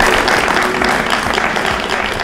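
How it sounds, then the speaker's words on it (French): A TV game show studio audience applauds a contestant after a correct answer, a loud, continuous burst of clapping filling the room for a couple of seconds. "On applaudit pour monsieur Patrick."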